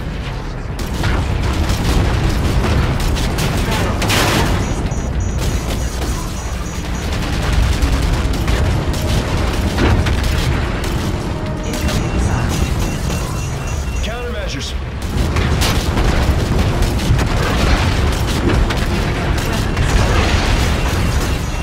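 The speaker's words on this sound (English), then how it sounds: "Incoming missile. Flares away." Incoming missiles bursting around an aircraft in Call of Duty: Infinite Warfare, a long stretch of booming explosions, crashes and mechanical rumble that keep going with voices talking over the din.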